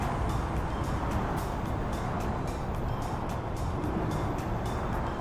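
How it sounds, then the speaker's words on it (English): Dense road traffic in American Truck Simulator, a steady loud engine and road roar with repeated regular clicks or ticks throughout, no pauses. "There's a lot of traffic."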